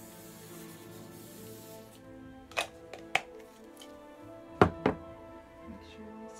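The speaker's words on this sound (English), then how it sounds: "we're going to spray everything with hairspray." Hairspray is spritzed over styled hair in a few short bursts, close and fairly quiet, each spray a brief airy hiss separated by pauses, with light handling noises around them.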